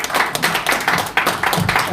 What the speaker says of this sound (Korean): 출연자 여러분들을 위해서 박수 한 번 더 보내주시기 바랍니다.